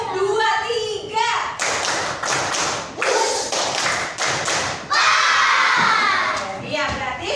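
A classroom of children claps on the teacher's cue in bursts of two and three sharp claps, loud and close, with kids' voices and shouting between the rounds.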